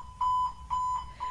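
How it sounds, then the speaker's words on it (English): Emergency alarms sound at Atlanta's international airport, a steady high electronic tone repeating in three clear beeps of roughly equal length, loud and close with no voices. "Alarms went off signaling an emergency at Atlanta's International Airport"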